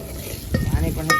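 Green chillies dropped into hot oil while cooking a Maggi-based curry, a brief burst of close sizzling with stirring clinks.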